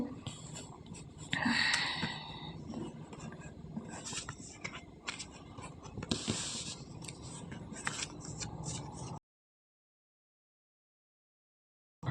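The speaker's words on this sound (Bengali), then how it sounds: "ততক্ষণে আমি সাফল করে নিই।" Tarot cards shuffled close up, a continuous papery riffling and rustling for about nine seconds before the sound cuts to silence.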